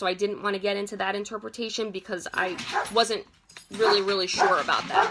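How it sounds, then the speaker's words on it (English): A dog barks at the mailman in the background, its yips and whimpers partly masked by someone talking continuously in the foreground. "dog barking at the mailman"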